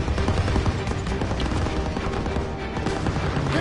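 Sustained machine gun fire rattles continuously in a Call of Duty: WWII street battle, dense and loud with overlapping bursts and explosions throughout.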